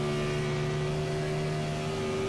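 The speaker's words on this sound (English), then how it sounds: "I'm listening to the engine. Look at that. Listen to that thing go." A high-revving race car engine at a steady, loud pitch during a NORA Retro Cup Series All-Star oval race, screaming near 9,500 RPM as it heads into turn one, with no talk over it.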